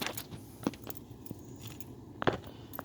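Car keys for a 2010 Ford Focus SE jangle quietly with a few small metallic clinks and rustles, sounding close but faint, and no one talks.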